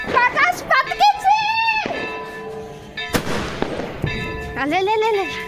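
Sharp firecracker bangs burst among excited children's shouting at a New Year celebration, with a couple of loud cracks standing out above the lively chatter.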